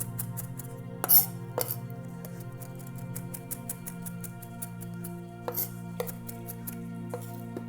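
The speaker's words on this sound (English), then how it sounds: "we do need a little bit of chopped parsley" Fresh parsley being chopped on a cutting board, with a steady series of faint knife taps under a constant hum from the kitchen.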